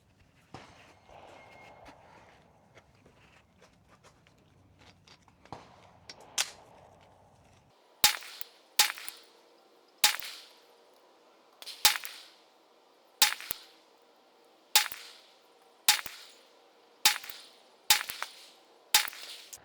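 Monarch 124 grain 9mm pistol ammo fired outdoors: about nine sharp, loud shots spaced roughly a second or two apart, each with a short decaying echo, following a stretch of quieter handling noise.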